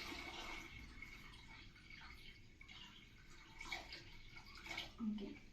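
Water pours into a plant container in a faint, continuous splashing and trickling stream, with a person speaking softly over it.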